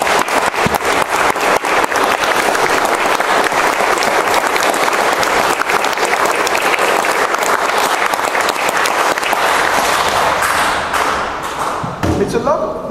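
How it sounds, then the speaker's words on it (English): Loud, dense applause from a church congregation after a Sunday morning talk, steady and continuous for about ten seconds, then thinning out near the end. "It's a lovely thing to clap."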